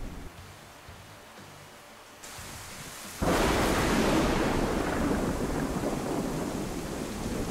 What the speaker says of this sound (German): Weil halt das Gewitter einfach viel zu laut ist.